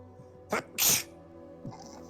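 A single loud sneeze, a quick sharp intake followed by a forceful burst, close by in a quiet room.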